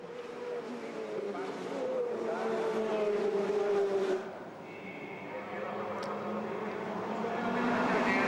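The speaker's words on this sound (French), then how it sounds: "On se contente de suivre le tempo de la voiture, du safety car, avec Alain Menu en première" Touring cars circulate behind the safety car during a World Touring Car Championship race in Porto, a steady engine drone rising and falling as cars pass, with a commentator talking over it.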